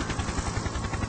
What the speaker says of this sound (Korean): 헬리콥터 소리는 멈추지 않았다.